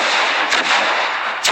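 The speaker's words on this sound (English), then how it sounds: "Real-world sewer explosion, best case scenario, sparking in 3," A sewer explosion in a real-world test, a loud roaring blast that fills the whole clip as a sustained, broadband rumble and hiss, with brief sharper bursts near the start and end.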